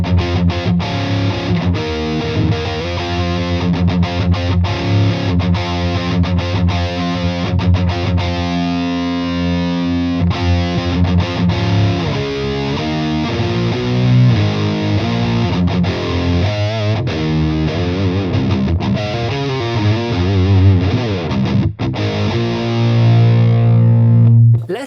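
Electric guitar driven through a JOYO Tone Chain distortion pedal with the tone knob at maximum, playing continuous loud, saturated chords and riffs with a thick, dark sustained tone, no talking.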